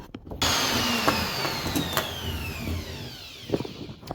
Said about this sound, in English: Let's hoover this up and I'll show you the hole.